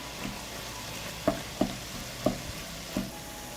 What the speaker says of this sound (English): I fry the meat until done.